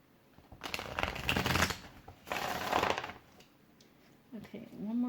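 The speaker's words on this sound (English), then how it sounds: "one more shuffle and then we're going to" Playing cards are riffled and bridged in two bursts of crisp fluttering at close range, followed by softer handling; no one speaks.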